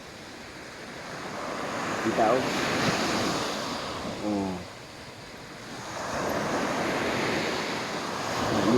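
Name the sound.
ocean waves on shore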